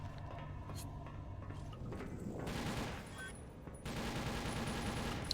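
Bursts of gunfire fire bullets in the video game Timeshift, with rapid shots rolling into dense sustained volleys, steady and fairly loud with no talking.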